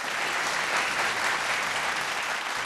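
Steady audience applause at a TV singing contest, dense and even from start to finish with no voices over it.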